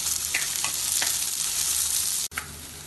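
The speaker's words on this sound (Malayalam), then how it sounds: "ഇതിന് കുറച്ച് സമയം ഇളക്കി വഴറ്റാം." Crushed garlic and ginger sauté with onion in hot oil in a pan, giving a steady, close sizzle with a few soft stirring scrapes and no voices.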